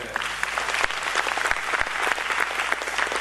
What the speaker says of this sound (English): I think this round of applause justifies that.